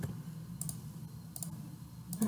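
Computer mouse clicks on an OK button in hospital management software, three soft, brief clicks spaced about a second apart over a low steady room hum.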